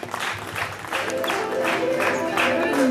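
An audience at a district-level school talent search event applauds as students are welcomed onto the stage, a dense, sustained clapping that swells slightly and carries on without pause.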